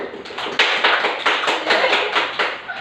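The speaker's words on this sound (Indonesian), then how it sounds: "Tepuk tangan yang semangat dulu nak" A classroom of students claps enthusiastically in a short burst of sharp, rhythmic hand claps, close and lively, with no talk over it.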